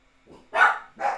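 Dogs barking indoors, a soft yip followed by two loud, close barks in quick succession, with no talking.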